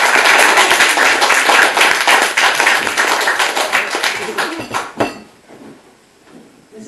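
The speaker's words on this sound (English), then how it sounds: "So please, a big round of applause." Audience applause for a speaker at a university reading, loud close clapping that fills several seconds, then stops abruptly and leaves a quiet room with a faint voice.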